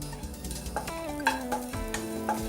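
Peanuts, sesame seeds and coconut dry roast in a pan while being stirred, with soft scraping strokes and a faint crackling sizzle close by, steady and unhurried.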